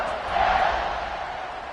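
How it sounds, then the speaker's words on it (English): A football stadium crowd buzzes after a score, a dense, loud, even roar of many voices filling the whole moment without distinct words. "this crowd is buzzing after that last score"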